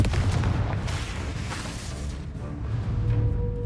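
A Confringo blasting curse in Hogwarts Legacy erupts as a heavy, booming blast with a rumbling tail that stays loud and dense across the clip.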